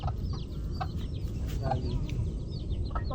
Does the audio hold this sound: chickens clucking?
yes